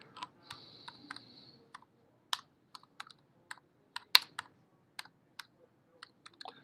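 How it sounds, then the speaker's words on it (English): Keys on a computer keyboard are tapped in short, irregular bursts, quiet and close, with brief pauses between keystrokes. "Just typing away here, seeing what we're seeing."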